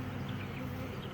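Honey bees buzz steadily in an opened hive during a colony split, a dense, close, continuous drone with no talk over it.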